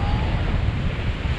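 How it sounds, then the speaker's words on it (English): Ocean waves wash onto a Sint Maarten beach in a steady, broadband roar, with wind buffeting the microphone throughout. "There's a lot more waves here though"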